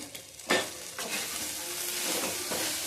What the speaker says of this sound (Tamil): நல்லா சுரண்டினதுலேயே நல்லா கிண்டி விடுங்க.